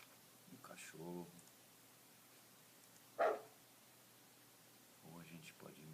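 A person imitates a dog, giving a few short bark-like vocal bursts spaced out across the moment, close and moderately loud, with quiet gaps between them.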